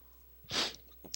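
A single quick, soft sneeze, followed by a faint sniff in an otherwise quiet room.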